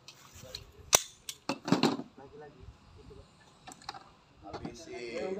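Gunshots at a Brimob police shooting drill, several sharp cracks with one loud shot near the start and more spaced reports after, under a reverberant outdoor setting with some voices around.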